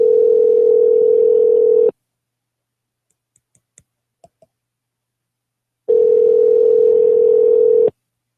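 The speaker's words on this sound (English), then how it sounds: "So I've like physically dialed the number" A telephone gives a steady dial tone for about two seconds and then goes silent. A few faint clicks follow, and the same loud tone returns for another two seconds.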